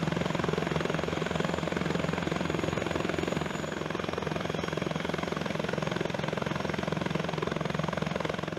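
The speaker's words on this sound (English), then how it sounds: "Pilots can accelerate quickly and have precise control of the aircraft thanks to a low-inertia rotor system" A European attack helicopter with a low-inertia rotor system runs in a steady, dense roar of rotor and turbine, loud and continuous with no talk.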